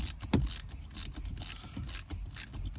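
Box-end or ratcheting 12 mm wrench turning the shifter bolts on a 2006 GD Subaru WRX during a Cobb short shifter install, giving repeated close metallic ratchet clicks and taps in quick bursts.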